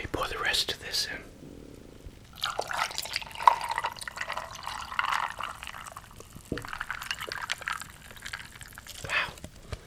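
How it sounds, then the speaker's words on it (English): Liquid pours into a cup in a few bursts with splashing and trickling, close up, with soft whispery voice sounds in between. "Let me pour the rest of this in."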